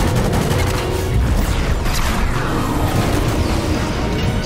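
Gunfire and explosions in the video game Fortnite during an event, a loud dense wash of shots, booms and rumbling that runs continuously without a break.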